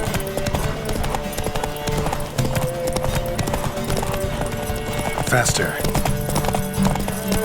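Horse hooves clip-clopping at a fast gallop during a horse race in The Witcher 3, a steady rapid drumming under game music, with a voice shouting over it and a brief whinny.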